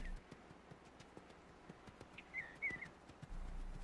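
Wild horses in a herd with alert stallions give off scattered, soft hoof clip-clops at a distance, with a brief faint whinny-like call midway.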